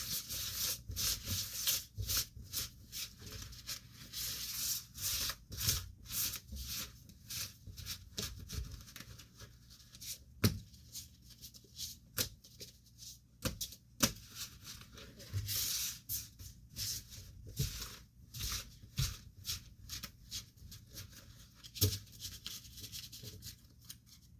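Playing cards are swished and smeared across a tabletop in a table-wash mix, giving a steady papery rubbing hiss with scattered sharper card slaps and flicks throughout, close and alone with no talk.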